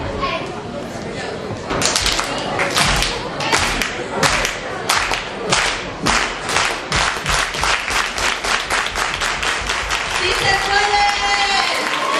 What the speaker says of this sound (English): So I want you to put your hands together and we're going to do a clap.